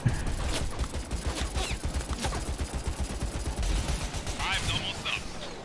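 Rapid bursts of gunfire from the video game Crucible crackle in a dense, steady rhythm throughout, loud and close with overlapping shots, while a voice talks over the action.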